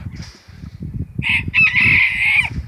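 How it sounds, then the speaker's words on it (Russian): A rooster crows loudly and up close, a long sustained call rising over the low rustle and clucking of nearby hens. "Такие прикольные курочки."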